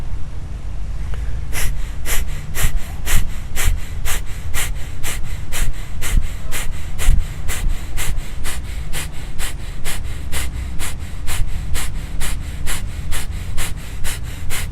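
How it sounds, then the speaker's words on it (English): Rapid, even pulses of breath forced out through the nostrils, roughly two sharp snorting exhales per second repeating steadily and close up for the whole stretch, with no talking. "the exhale is coming out of our nostrils, and we're going to pulse that breath"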